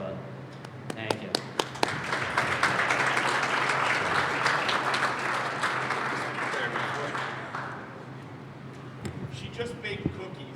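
Applause at a Veterans Day breakfast opens with a few sharp individual claps, swells into steady group clapping for several seconds, then tapers off as talking resumes.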